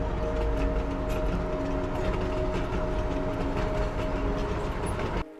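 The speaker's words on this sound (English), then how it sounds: "we catch a glimpse of one of the old cane trains which take the cane to the mill" An old sugar cane train rumbling past nearby with a steady mechanical drone, rhythmic rattling of cane wagons and a faint tonal whine, cutting off abruptly at the end.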